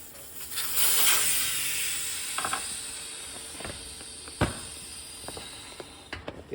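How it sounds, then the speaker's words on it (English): Valve core removal tool backing the core out of a 20-inch kids' bike tire valve during a tubeless conversion, with a loud rush of escaping air fading slowly while small ratcheting clicks and taps sound close by. "I'm gonna use a valve core removal tool."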